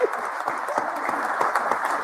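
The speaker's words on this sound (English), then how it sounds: "So that's where we all applaud." Audience applause during a live Canadian morning news show, a steady wash of clapping running the whole stretch with some voice underneath.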